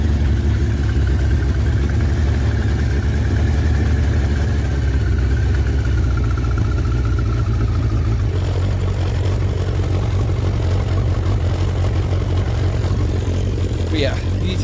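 A Suzuki GSF1200 Bandit motorcycle engine idles steadily close by, its carburetted four-cylinder note a constant low throb with light mechanical clatter, and the idle sits slightly raised throughout with no talk over it.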